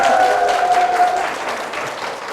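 A business lecture audience gives warm applause, many hands clapping close and loud at first, then easing off over a couple of seconds. A faint tonal whine or feedback runs briefly under the clapping.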